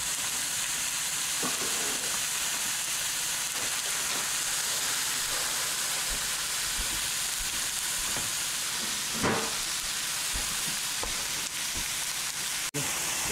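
Pork chops fry in a hot pan with a steady, dense sizzle and crackle, near and continuous, punctuated by a few brief louder pops and clinks of a utensil.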